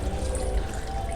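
Water pours steadily into a bowl of tamarind being soaked for chutney, a continuous close splashing rush with no break.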